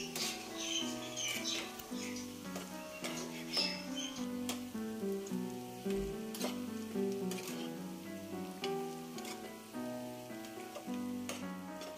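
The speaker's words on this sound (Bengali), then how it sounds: "এই সমস্ত মশলাগুলোকে ভালো করে মিশিয়ে ভালো করে মশলাগুলোকে কষিয়ে নিতে হবে।" Spices with turmeric frying in a pan for a flat bean dish, a soft sizzle punctuated by repeated clinks and scrapes of stirring, fairly quiet, no voices.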